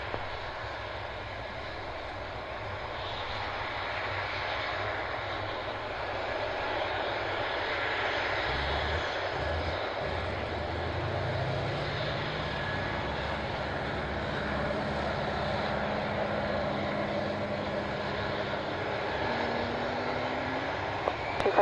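Aircraft engines roar steadily in the distance, with a long, even drone that slowly builds as the plane runs up and rolls for takeoff, without talk.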